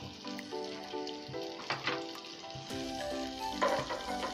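Green chillies fry in hot oil in a pan as a base for ragi soup, giving a soft continuous sizzle with a few stirring scrapes, close but fairly quiet.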